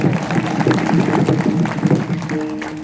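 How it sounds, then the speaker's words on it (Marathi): Audience at a Marathi kirtan clapping in a sustained, dense burst of applause from a crowd, loud and continuous, with a held musical tone entering near the end. "यांच्यासाठी जोरदार टाळ्या वाजवा"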